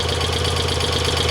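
A motorcycle engine idles steadily during a charging-system check, giving a continuous dense rumble with a fast, even pulse and no pauses.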